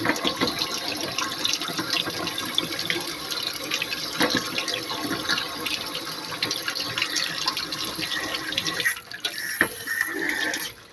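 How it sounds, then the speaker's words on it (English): Water runs steadily from a repaired bathroom faucet after a leak fix, a loud continuous close-up rush that dips briefly near the end before resuming. "Turn back on the water"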